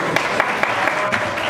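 Audience applause after a recited Italian love poem at a lunch with colleagues in a hotel restaurant in Montesano sulla Marcellana, steady clapping from a group at moderate loudness with a few sharper individual claps.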